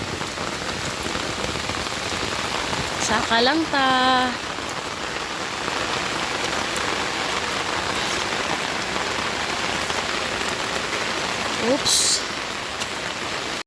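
Steady, heavy rain falls throughout during a visit to a farm in Butuan City, a dense close hiss on the surfaces all around. Brief speech and a short vocal sound occur midway and near the end.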